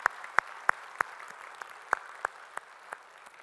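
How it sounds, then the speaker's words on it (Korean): A few church congregation members clap in an even, unhurried rhythm, giving crisp separate hand claps that grow softer and thin out toward the end in a quiet hall. "우리의 찬양 받으신 주님께 영광의 박수 올리겠습니다."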